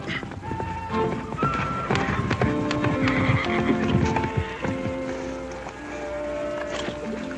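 Hooves clip-clop steadily while a horse lets out whinnies, with rustling and scattered knocks around it; no voices.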